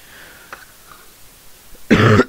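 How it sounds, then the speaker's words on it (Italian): A quiet room, then a single harsh cough bursts out near the end, close and loud. "Scusate per la tosse."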